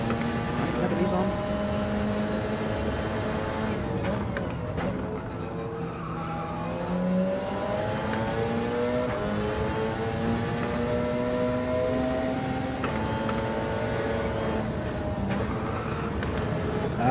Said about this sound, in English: I was trying to rev this thing out and burn gas